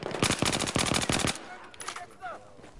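Rapid, loud bursts of machine gun fire from a video game hammer away for over a second, then drop off into quieter background noise as a faint voice reacts.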